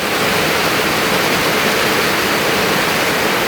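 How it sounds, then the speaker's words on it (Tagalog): Heavy rain pouring with water leaking and streaming through a roof, a loud continuous hiss of rushing water filling the scene without pause. "Tumutulo."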